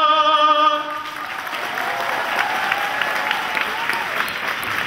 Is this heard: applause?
yes